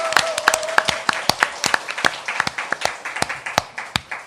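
Scattered applause from a small studio audience opening a Korean political talk show, with separate claps at an irregular rhythm, fairly close and moderately loud, and no one speaking over it.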